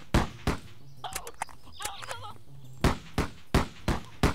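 Sharp gunshots from the video game Zeno Clash crack out in irregular bursts, a pair at the start and a rapid cluster of four near the end, with electronic chirping game effects in between.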